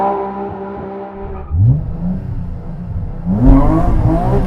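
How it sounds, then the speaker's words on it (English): Supercharged BMW E30 Touring wagon doing a burnout, its engine revving hard in repeated rising surges with a whirring supercharger, loud and close, the revs dipping and climbing again. "I'm gonna let him do a burnout."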